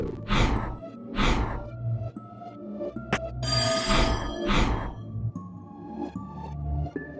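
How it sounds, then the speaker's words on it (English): A prototype telephone device in a video game rings with bright, repeated bell-like bursts in a steady rhythm, fairly close and clear over a low, humming game background. "What was that sound like a ringing bell? I think it came from this odd device."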